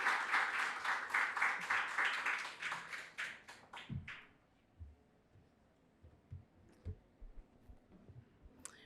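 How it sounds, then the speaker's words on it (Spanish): Audience applause welcoming a speaker to the stage at an occupational health and safety conference in the Dominican Republic, a dense burst of clapping that fades after about four seconds into scattered claps and quiet room noise. "Hacemos pasar con un fuerte aplauso"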